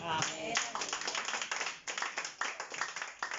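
A church congregation claps for the Lord during a pastor's sermon, a dense run of hand claps that rises and falls over about three seconds with voices mixed in.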